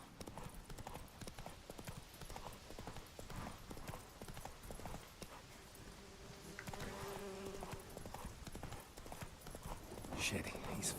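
Roach, the horse in The Witcher 3, gallops at speed with crisp rhythmic hoofbeats throughout, a faint buzzing insect-like tone in the mix and a voice heard over the running hooves.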